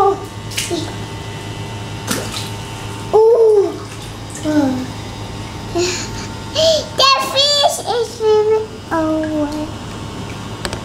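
Water splashes and gurgles as fish are released into a 120-gallon reef tank, in short irregular bursts with a voice and other chatter mixed in.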